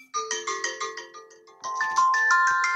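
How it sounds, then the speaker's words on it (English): A phone ringtone for an incoming call plays alone, a repeating bright chiming pattern of about six even notes, then shifting to a louder, sustained run of tones near the end. "Sorry, I had a phone call."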